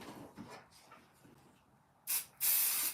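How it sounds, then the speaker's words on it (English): Basting adhesive sprayed from an aerosol can onto a quilt backing in a sewing room, two hissing bursts, the first short and the second longer and louder, after quiet handling sounds. "but I'm going to spray this area"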